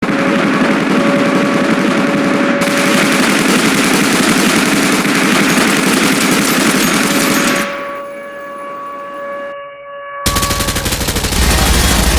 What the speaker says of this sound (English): I'm under fire from UCS forces at Port Lark.